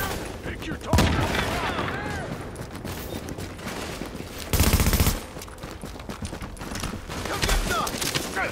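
Video game gunfire rattles in rapid automatic bursts, with a few heavy volleys standing out against continuous combat noise and a voice talking throughout.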